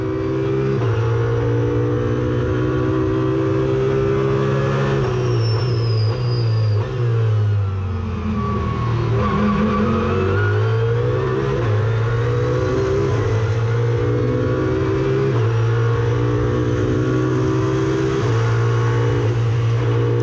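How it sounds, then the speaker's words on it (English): Audi R8 and Mercedes GT race cars accelerate on the circuit at Spa during a 24-hour endurance race, loud sustained engine roar with rising and falling pitch as the cars pass and pull away. "At the entrance to the pit straight, Chris Maerst accelerates too early, and the R8's rear wheels slide."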